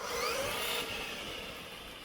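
A Tamiya Toyota Hilux scale RC truck in two-wheel drive high speeds across a garden, its electric motor giving a faint, rising then falling whine over a short pass.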